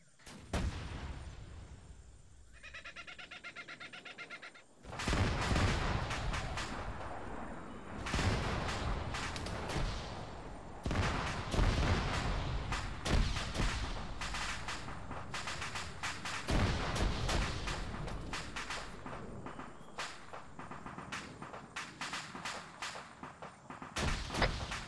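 Heavy gunfire and artillery-like blasts in a Vietnam War combat setting: after a quiet opening with a faint tone, a loud burst erupts and sustained bursts of shots and booms continue densely to the end.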